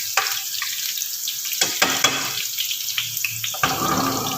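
Green chillies and onion fry in a pan with a constant hiss of sizzling oil, cut by a few spoon scrapes and taps now and then, close by and without talk.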